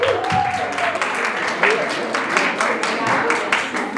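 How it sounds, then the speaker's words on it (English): An audience claps at a Diwali community event, moderately dense applause with voices talking over it. "Big round of applause."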